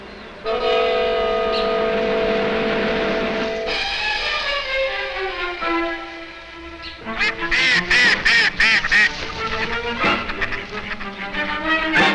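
A long blaring horn-like drone gives way to a rapid series of loud, frantic duck quacks as a duck flees a puma in the Rupununi, close and harsh, with no talking.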